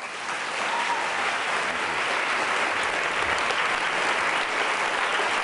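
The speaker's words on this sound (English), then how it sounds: "Please give a warm round of applause to Raj Patel" Audience applause for Raj Patel at an evening food and development lecture, a dense, steady wash of clapping that swells in and holds loud for several seconds with no voices over it.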